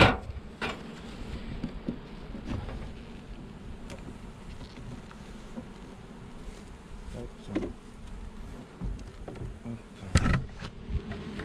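Bees buzz steadily around an opened beehive outdoors, a dense continuous drone with occasional louder individual bees passing close, plus a few handling knocks.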